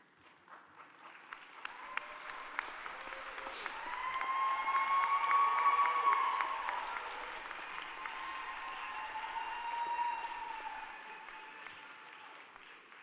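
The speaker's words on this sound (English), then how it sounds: "While you have deserved all the applause" A medical school commencement crowd applauds the standing 2025 graduating class, a broad, steady wash of distant clapping and light cheering that swells in the middle and eases off, heard alone in a large hall.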